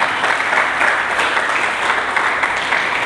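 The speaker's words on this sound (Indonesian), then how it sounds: "Berikan tepuk tangan dulu bagi Yesus." A church congregation at a Pentecost service claps together in a steady, even burst of applause that fills the whole span without pause.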